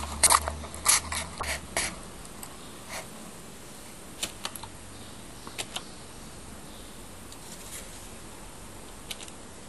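Keys are tapped on a CNC milling machine control panel to enter a negative value, sharp isolated clicks in quick clusters early on and then sparser presses over a low steady machine hum.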